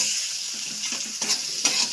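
Ginger, green chilli and small hand-crushed tomatoes sizzle steadily in a wok, a constant bright frying hiss with a few soft stirring clinks and scrapes, close and without talk.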